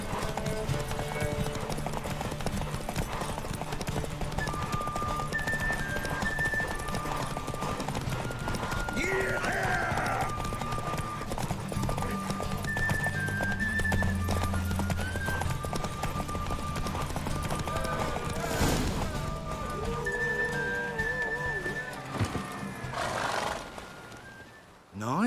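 A horse gallops continuously in The Witcher 3 during a race, with dense, rapid hoofbeats under game music and shouted voices, and a horse whinnies briefly near the end.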